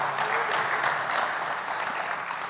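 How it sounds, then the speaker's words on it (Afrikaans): Audience applause for an orchestra at a church gathering, a dense, steady wash of many hands clapping close by, sustained without pause for the whole stretch. "Geef hulle net weer 'n regte hande klap toe"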